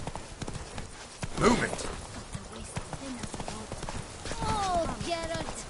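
Horse hooves trot along in The Witcher 3: Blood and Wine, a steady clip-clop rhythm under game music, with a voice speaking briefly and a horse whinny breaking through near the middle.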